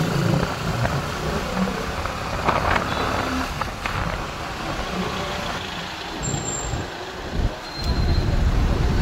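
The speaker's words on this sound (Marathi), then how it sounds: "आम्हाला इकडे भेटलंय थोडंसं ट्रॅफिक." Road traffic on a street in Ratnagiri where roadwork is under way: a steady wash of passing cars and trucks with engine rumble, fairly close and continuous, and a faint reversing beep in the background.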